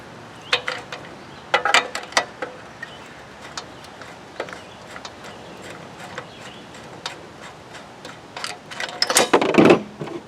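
A 1/2-inch wrench working on the pump bolts of a pressure washer gives sharp metallic clicks and ratcheting taps, scattered and irregular, with a louder cluster of clanks near the end and no talk.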